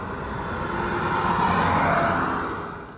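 A 2014 Honda Accord Hybrid runs under throttle, a steady droning engine and road roar that swells in the middle and eases off at the end, no talk.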